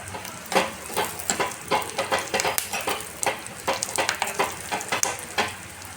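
Carrot halwa ingredients fry in ghee, a soft sizzle under repeated scraping and stirring strokes of a spoon against the pan, close and rhythmic with no voices.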